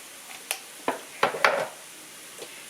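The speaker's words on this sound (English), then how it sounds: "So what you're doing here is you're getting it to fry." Corn tortillas fry in a pan during a migas recipe, with a soft steady sizzle. A few scraping stirs and light pan knocks sound close by, and no one talks.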